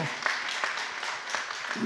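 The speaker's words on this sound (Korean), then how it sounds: "우리 집사님이 아주 잘 박수 한번 해주시기 바라고요" A church congregation claps together in a steady, fairly quiet patter of applause, with no voices standing out.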